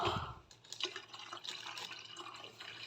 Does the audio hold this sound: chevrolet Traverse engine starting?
no